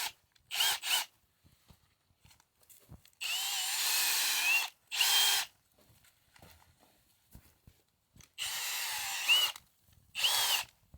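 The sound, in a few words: power drill with auger bit digging soil for planting peppers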